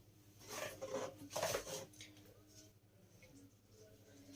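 Dishes and utensils being washed in a home kitchen before suhoor, with a clatter of plates and cutlery in two brief bursts early on, then quieter running sounds.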